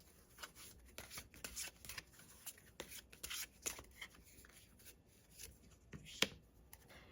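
Tarot cards being shuffled by hand, a quiet, close series of crisp riffling and rubbing bursts in irregular rhythm.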